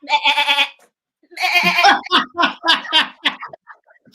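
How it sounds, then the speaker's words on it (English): Goat bleating in an animal noise guessing game on a radio show, a loud close wavering bleat, then a quick series of shorter, shaky bleats that trail off. "the actual noise that was a goat"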